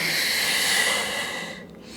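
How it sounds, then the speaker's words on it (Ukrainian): One long, steady inhalation through the nose during a morning exercise routine, close and airy, fading out near the end. "Вдих через ніс."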